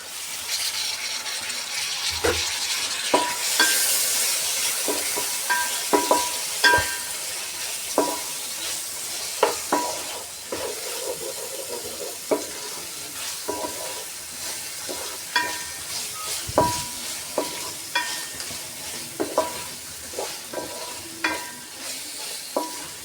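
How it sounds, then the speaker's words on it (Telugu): Tomato pieces frying in oil with ginger paste for bagara rice, a low continuous sizzle under frequent clanks and scrapes of a spoon stirring against the pan, close and fairly loud, no speech. "టమాటా ముక్కలు వేసుకున్నాక బాగా కలుపుకోవాలండి"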